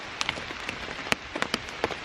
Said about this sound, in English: it's raining. It's raining pretty heavy.